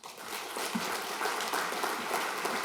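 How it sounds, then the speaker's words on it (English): Steady applause from a graduation audience at a TAFE ceremony, a dense continuous wash of many hands clapping, fairly distant and even, lasting the whole stretch. "Would you please put your hands together and keep that applause flowing over the next few minutes"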